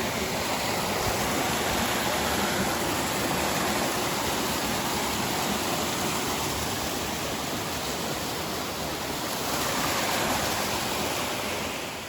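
Çınarlıdere waterfall in Derince, Kocaeli, pouring in a steady, loud, broadband roar that stays constant throughout with no voices.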